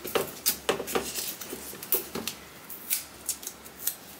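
Scissors snip through a strip of double-sided tape, giving a quick series of sharp, close metallic cuts with short pauses between them and no voices.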